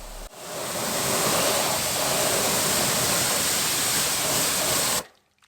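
A van being rinsed with a water spray during a decontamination detail, a loud continuous hiss of spray that runs nearly the whole clip and then cuts off abruptly near the end.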